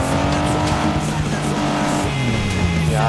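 Racing cars roar through a FlatOut 2 race, engine notes rising and falling with tire squeal and skidding, loud and continuous throughout.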